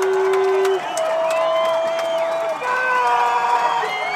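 A crowd cheers and shouts steadily from the stands at a high school football game between the Placer Hillmen and Center Cougars, heard beneath an announcer's voice.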